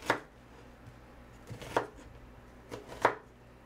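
Knife chopping food into wedges on a cutting board, three distinct sharp chops spaced over a few seconds, close and crisp against a quiet kitchen background.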